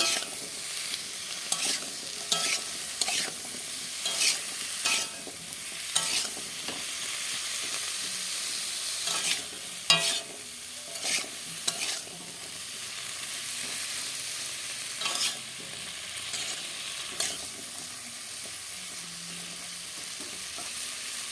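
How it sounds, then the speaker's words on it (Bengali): Food sizzles steadily in a pan while a utensil scrapes and stirs in repeated strokes, with soft intermittent clinks throughout. "আর একটু ভেজে নেবো লাল লাল করে"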